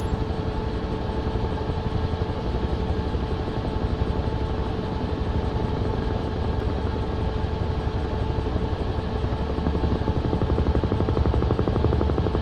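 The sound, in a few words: Huey helicopter rotor and engine in video game Microsoft Flight Simulator 2024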